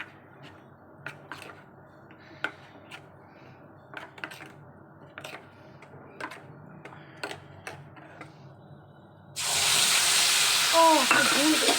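Tapping and stirring in a pan, then a loud burst of sizzling as onion and ginger-garlic paste with spices hit hot oil near the end.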